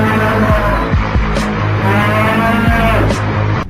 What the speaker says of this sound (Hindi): अभी के अभी वहीं रुक जाओ हमारे प्रिय भैंसे।